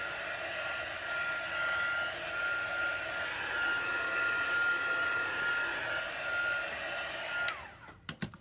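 A hair dryer blows steadily at close range, drying a transfer on a large board, a constant whooshing roar with a faint whine that holds for several seconds and then cuts off, followed by a few clicks and handling noises.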